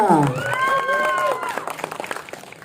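Applause welcoming a guest onto the stage at a film press conference: a voice speaks over the room first, then scattered hand claps build into a loose patter of clapping.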